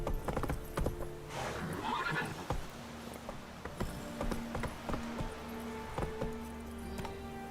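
The horse Roach galloping in The Witcher 3, a steady rapid clatter of hooves with a whinny near the start, close and clear over faint game ambience and metallic clinks.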